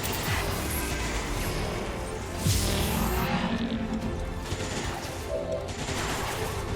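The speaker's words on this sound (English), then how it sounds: "First, we'll punch a hole through the entire building with his Shredstorm cannon." A Shredstorm cannon in XCOM 2 unleashes a rapid, sustained barrage punching through a building, dense bursts of gunfire and crashing debris building to a loud peak midway and continuing as rattling impacts.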